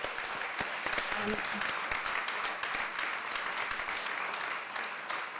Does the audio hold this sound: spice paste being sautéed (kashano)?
no